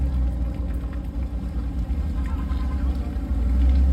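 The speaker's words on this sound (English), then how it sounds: "Look at my loud ass car." A loud muscle car engine rumbles steadily during a freeway cruise in San Diego, a heavy, continuous low-pitched drone with wind and road noise, swelling slightly louder toward the end.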